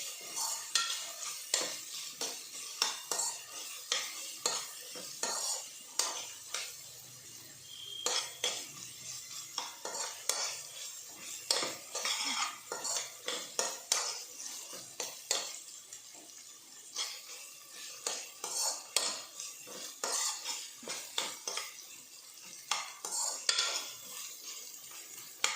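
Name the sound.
sautéing ginger garlic paste, stirring in pan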